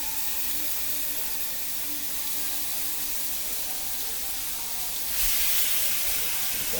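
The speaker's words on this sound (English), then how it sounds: "Listen to that sizzle. I love that sound." Chicken frying in a hot pan gives a continuous broad sizzling hiss that holds steady and swells a little louder near the end, with no voices over it.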